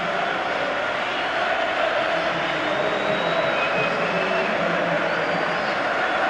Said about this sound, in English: And they're getting an excellent response from the crowd here.